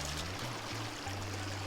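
Water splashing and trickling over rocks as dirt is washed off during gold prospecting in Gold Canyon, a continuous close running wash with a low steady hum beneath it.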